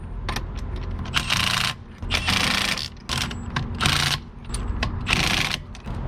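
Lug nuts on a fifth wheel RV wheel are tightened with a ratcheting wrench in a crossing pattern, giving several bursts of rapid mechanical clicking separated by short pauses, close and fairly loud against a steady low background hum.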